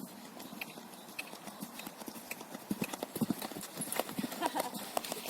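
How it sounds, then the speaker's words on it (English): A horse canters over a jumping exercise, hooves clip-clopping in a quick rhythmic beat that grows more pronounced partway through, with faint talk in the background. "before I actually put it up to a jump, I'm going to canter her through it a little bit on both reins."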